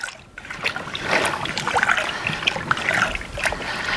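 A paint stick stirring concrete stain color into water, giving a continuous close sloshing and swishing with small splashes throughout.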